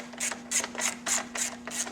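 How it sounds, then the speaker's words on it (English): A ratchet wrench backs bolts out during the first step of installing a 23-inch wheel package, giving six quick, evenly spaced bursts of clicking close up with a steady faint hum underneath and no talking. "Take these bolts out."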